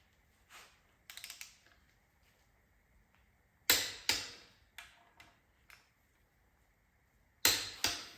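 While Duramax engine bolts are tightened, a torque wrench gives sharp metallic clicks in scattered groups, some close and loud, others softer, separated by quiet ratcheting and pauses.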